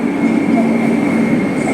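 Laos-China Railway train arriving at a station, a steady loud rumble of rolling rail cars with a sustained whine, heard up close throughout.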